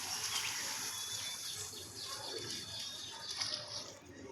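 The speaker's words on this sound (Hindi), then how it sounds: "यार क्या ठंडा पानी है भाई" Cold water splashes and rushes continuously at Ocean Breeze water park, a bright hissing wash heard close with no talk.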